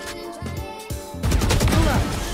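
Rapid game gunfire in a shooter match, a burst of sharp shots followed by a louder, sustained barrage of heavy automatic fire close up.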